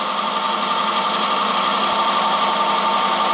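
A benchtop horizontal milling machine's motor, under restoration and rebuild, runs loud and steady with a dense broadband whine and hum, unbroken throughout and close by, with no talking.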